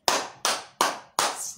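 Handclapping to applaud a wedding: four loud, crisp claps at a slow, even pace, close by and with nothing else audible.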